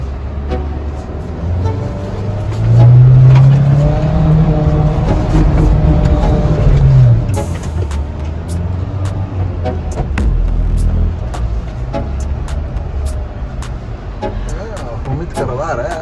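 Mahindra Thar 2020 with a changed differential climbing an off-road slope, its engine swelling into a loud, rising rev for several seconds and then easing back to a low drone as people talk.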